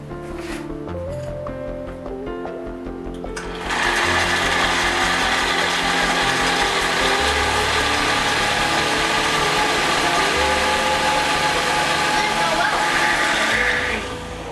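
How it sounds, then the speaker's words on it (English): A blender on a DIY solar-powered portable inverter starts after a few seconds of quieter hum, then runs steadily and loudly, a dense whirring motor drone that holds until near the end. "we'll plug in the blender. Let's fire it up."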